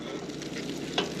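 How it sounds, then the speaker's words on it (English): Butter sizzling as it melts and coats the bottom of a hot frying pan before pancakes go in, a steady soft crackle with one brief louder pop near the end. "You can see even the butter has a nice sizzle going."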